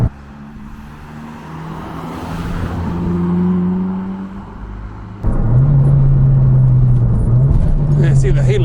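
Ford Focus RS MK1 accelerating out of a corner, its engine note rising and droning loudly from inside the cabin, with a sharp surge in power and a strong steady tone after the midpoint; a voice talks early on.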